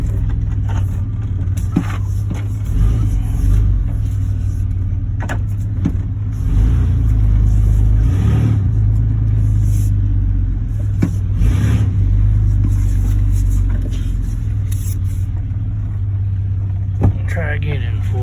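1991 Chevy K1500 pickup truck driving on pavement, a steady low engine and road rumble heard from inside the cab with occasional clunks and faint talk.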